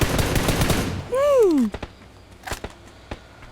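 A dense burst of automatic gunfire from the video game PUBG New State fills the first second, followed by a falling whistle-like tone and scattered sharp clicks.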